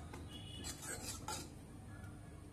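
A spoon stirs powdered rock sugar into a mixture in a bowl, soft scraping and light clinks against the side, close and quiet with a few brighter taps over a low background hum.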